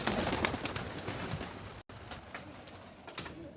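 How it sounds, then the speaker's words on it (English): Pigeons in an aviary give low cooing calls mixed with a few brief chirps and rustles, moderately close and continuous, with no talking over them. "Here is the pigeon aviary."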